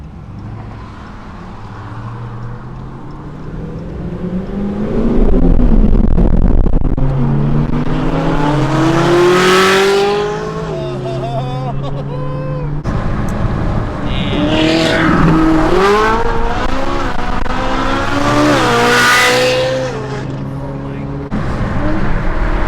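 A 2012 Ferrari 458 Italia with its 600 hp V8 revs hard and accelerates, a loud rising howl that climbs through gears twice with brief shifts between pulls, close and dominant throughout.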